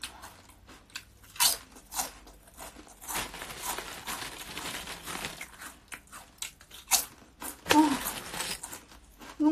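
Someone eats garlic baguette up close, with loud crisp crunches, bites and chewing in irregular bursts, plus occasional breaths and a faint sigh.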